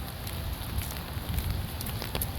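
Rain falling on a quiet harbor walkway, a steady dense patter of drops with occasional sharper splashes, fairly close and continuous, with no voices.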